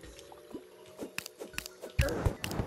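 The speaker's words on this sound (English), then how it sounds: "dunked some water on us there" Soft, wet drips and small liquid plops in Terraria come in an irregular series of close, faint blips, with a thicker burst of splashing water near the end.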